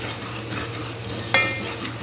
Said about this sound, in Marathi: हे बघा, चांगलं परतून घेते त्या मसाल्यांना